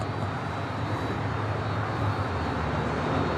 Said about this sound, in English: Coming in from Boston, United Airlines Flight 311 in the 757-200